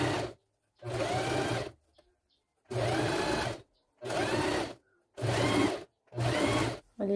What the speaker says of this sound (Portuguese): Então, vou costurar ela aqui, ó, um pouquinho mais pra baixo